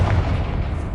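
A Confringo explosion spell bursts in Hogwarts Legacy, a single short, deep boom with a muffled low-end thump, close and loud.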